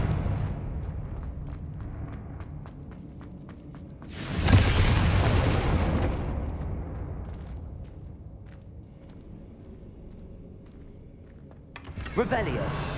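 A Confringo blasting spell explodes in Hogwarts Legacy, one deep booming burst that rumbles away over a couple of seconds over background game noise, with a smaller burst near the end.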